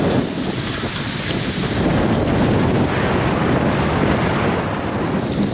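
Strong wind roars steadily through a normally calm cove as a hurricane approaches, with broadband gusts and rough water and waves churning throughout, close and loud with no speech.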